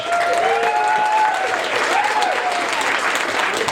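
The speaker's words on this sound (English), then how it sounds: "Give me a round of applause." A comedy-show audience at a country club breaks into applause, dense and steady clapping filling the room for the whole stretch, loud and close, with no talk over it.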